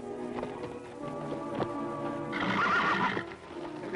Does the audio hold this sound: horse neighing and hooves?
yes